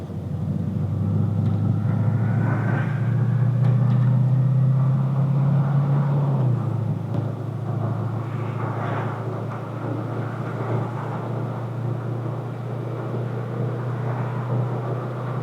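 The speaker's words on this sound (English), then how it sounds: "this is a very, very, very quiet old car" A 1971 Cadillac Eldorado Convertible cruising smoothly, its engine a low, steady hum under faint road and wind noise, with a slight rise in low drone early on that settles into an even, quiet glide.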